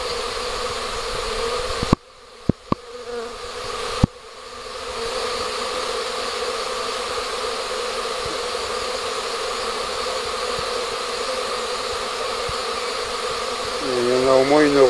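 A huge swarm of thousands of honeybees hums steadily in the air during a swarm collection in May at Colomars, a dense continuous buzz broken by a few sharp knocks near the start.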